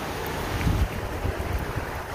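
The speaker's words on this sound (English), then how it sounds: "Wind just keeps you nice and cool." Steady wind gusting across the microphone on a hiking trail near Gatlinburg, a loud, continuous rumbling buffet with no voices.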